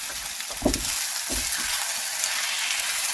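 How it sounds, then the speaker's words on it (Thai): Sticky rice is mixed with rich coconut milk for khao tom mat, making a dense, close, wet hiss with a few soft, low thumps and squelches from the mixing. "ยายก็จะคลุกเขาให้ทั่วกันนะคะ"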